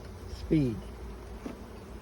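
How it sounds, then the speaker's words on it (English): A brief low buzzing of honey bees in a hive rises for a moment, then fades into a steady faint hum with some background noise. "now there's not many bees down here because the queen wasn't here"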